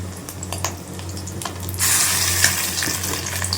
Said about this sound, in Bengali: এবার দিতে থাকছি মাছের ডিম এমনি ভাজা খেতেই ভালো লাগে তেল ছিটকাচ্ছে গো প্রচন্ড পরিমাণ